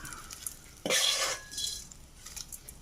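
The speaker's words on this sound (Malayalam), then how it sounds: "ഇപ്പം ഇളക്കി യോജിപ്പിച്ചെടുത്താൽ മതി" Cabbage and green gram thoran is stirred in a pan with a spoon, one brief scrape and clink of metal followed by a soft sizzle and light taps, close and quiet, no voices.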